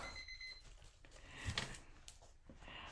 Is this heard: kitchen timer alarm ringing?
yes